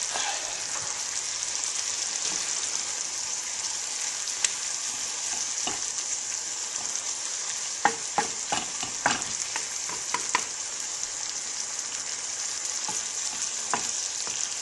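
Warm bacon dressing with vinegar cooking down in a pan gives a steady, even hiss of frying throughout, with a scattering of small pops and a few spoon clicks partway through, close and continuous, no talking.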